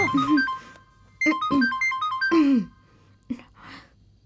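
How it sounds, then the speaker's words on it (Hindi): A phone ringtone plays a short electronic melody in repeated bursts separated by brief pauses, close by, with no talking. "अरे दीदी, कॉल आ गया"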